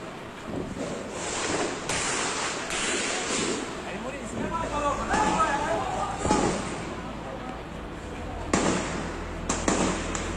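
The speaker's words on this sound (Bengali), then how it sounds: "আশেপাশের গুলি।" Police gunfire rings out at a street crossroads in Savar, several sharp, scattered cracks at irregular intervals over rushing wind-like background noise, with voices talking throughout.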